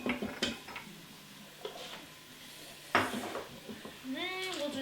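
Garlic being stirred in an Instant Pot, with scattered scraping and clinking of a utensil against the metal pot, soft sizzling, and a few sharper knocks, while someone talks quietly in between.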